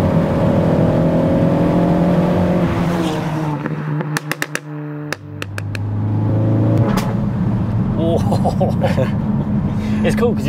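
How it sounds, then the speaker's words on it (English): A tuned 380 bhp Ford Focus ST Mk4 accelerates hard with a loud, close exhaust drone that rises through the revs, briefly breaks into sharp crackles and pops at a gear change, then pulls on strongly while people talk over it. "it makes your exhaust sound good, doesn't it?"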